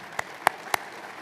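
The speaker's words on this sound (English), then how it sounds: "We should give him a round of applause." A few separate, sharp hand claps ring out at a memorial celebration, three brief bursts spaced evenly across a quiet room, moderately loud with no voices.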